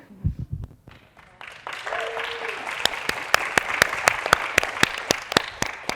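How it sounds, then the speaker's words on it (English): An audience at a panel of vegan kids and teens begins applauding. Scattered thumps give way to growing clapping, with a few sharp, evenly spaced claps standing out over the crowd. "a big round of applause for these amazing kids and teens"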